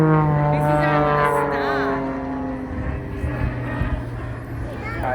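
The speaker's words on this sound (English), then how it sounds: "There's lots and lots and lots of planes today." Aircraft engines drone steadily at the Central Coast Airshow in Australia, a loud continuous tonal roar with strong harmonics, while a voice talks over it throughout.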